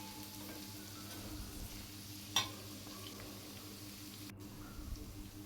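Onions frying in a pan over medium heat, a steady soft sizzle with faint stirring scrapes and one sharp clink of a utensil partway through, close and continuous with no talk.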